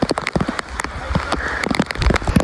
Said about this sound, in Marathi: आता पाऊस आहे आणि पाणी पण भरपूर आहे.